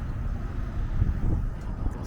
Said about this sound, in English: And here we got the 165 West Road North bus